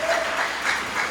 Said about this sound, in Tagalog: Mahina yung palakpak natin